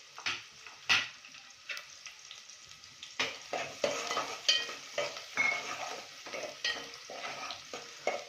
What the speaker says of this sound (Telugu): ఆనియన్ జల్దీ కుక్ అయిపోతుంది.